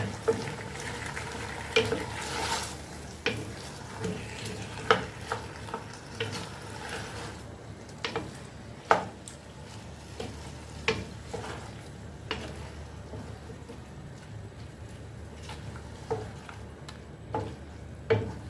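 Vegetables and fish fillet seasoned with fish sauce are stir-fried in a pan: a steady close sizzle broken by repeated scraping and clattering strokes of the spatula, with no talk.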